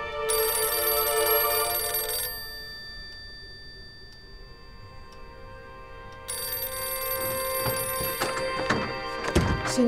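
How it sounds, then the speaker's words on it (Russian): A telephone rings in a hotel office in two long bursts of bright electronic trilling separated by a quiet gap, close and clear, with a few soft thumps near the end. "Ксения Романовна, вы почему трубку не берете?"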